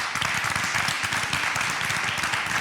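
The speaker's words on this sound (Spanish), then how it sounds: "Aplauso para Fran y la fiesta con los señores del palo." Steady applause from a crowd, many hands clapping together in a dense, even patter.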